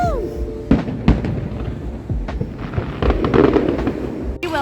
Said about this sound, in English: I didn't expect to see fireworks